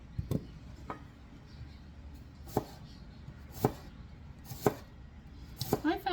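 A knife cuts through the root end of a vegetable on a cutting board for a spicy beef salad: about six crisp, separate chops spaced unevenly over a low room hum, with a brief voice at the end.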